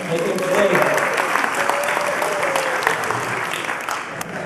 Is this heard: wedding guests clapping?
yes